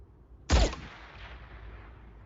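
A single sharp suppressed gunshot, a short muffled crack with a brief decaying tail in an otherwise quiet scene, fired from a scoped rifle.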